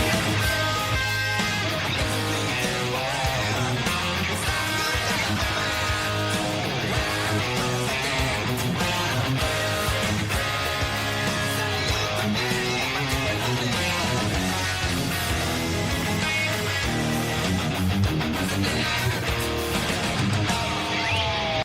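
Electric guitar plays the chorus of a song, with dense, continuous chords and riffs at a steady loud level throughout, no voices.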